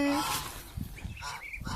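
Laying ducks on a duck farm, raised as a side business, give several loud nasal honks and quacks in a quick, uneven run, close by, with a voice briefly underneath.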